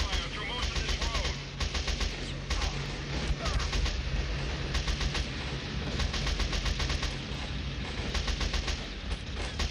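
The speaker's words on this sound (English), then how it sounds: "We've been taking sniper fire through most of this road." Gunfire in the war game Delta Force: Black Hawk Down, with dense repeated bursts of automatic fire and sharp cracks throughout, dense and close, a dull low rumble beneath and voices talking at times.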